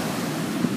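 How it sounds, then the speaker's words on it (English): Large ocean waves break and wash continuously at El Porto, Manhattan Beach, forming a steady, loud surf roar with some wind noise on the microphone and no talking. "Oh, these amazing waves."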